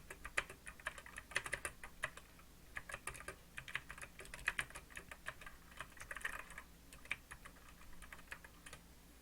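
Fingers type Python code on a computer keyboard, quick bursts of close, crisp key clicks in uneven clusters separated by short pauses, quiet and without speech.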